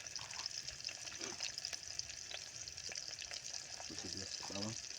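Onion and garlic frying in a pan for atol, a steady close sizzle with scattered stirring clicks and a brief voice near the end.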